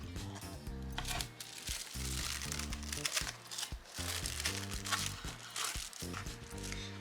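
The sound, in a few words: opening a jewelry package box, crinkling packaging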